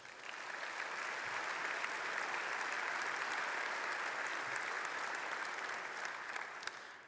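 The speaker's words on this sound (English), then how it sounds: "So will you please get a round of applause for all of our sponsors today." A breakfast-event crowd gives sustained applause for sponsors, dense even clapping from many hands filling the room for about seven seconds, steady throughout and fading slightly at the end.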